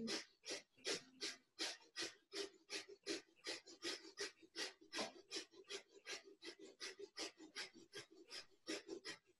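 Rapid, forceful rhythmic breathing during a Kundalini yoga session at home, a steady train of about thirty sharp breaths through the nose at roughly three per second, close and alone without talk.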